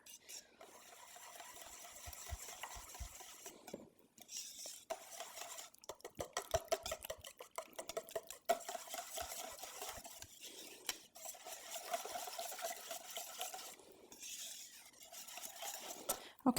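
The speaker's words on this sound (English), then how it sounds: "we're going to give that a whisk" A whisk scrapes and clinks rapidly in a bowl of citrus hemp heart muffin batter with orange zest, a quiet, close, rhythmic stirring in bursts with brief pauses.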